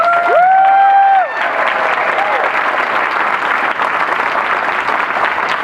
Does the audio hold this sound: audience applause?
yes